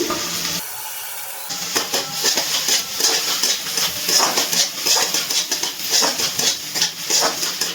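Chopped tomato frying in a hot pan as it is stirred, a steady sizzle and hiss broken by repeated scraping and clinking of the spoon against the pan, close and fairly loud.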